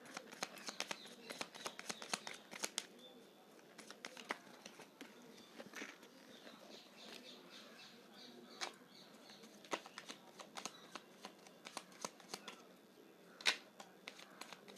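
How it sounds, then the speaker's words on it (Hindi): Tarot cards are shuffled by hand, a faint, quiet series of soft riffling clicks and flutters that keeps going in uneven bursts. "तो मैं फिर से करती हूँ शफल"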